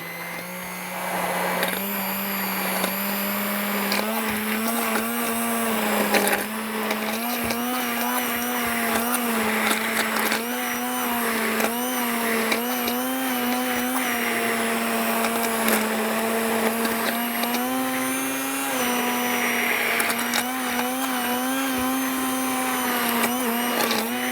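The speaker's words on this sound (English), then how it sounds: "Right now it's just a glob of vegetables and chicken broth that have been cooked for about a half an hour until the potato is well cooked." A blender purees cooked vegetables and chicken broth with potato, running as a steady, loud whirring drone for the whole stretch, its pitch wavering slightly as the mixture churns.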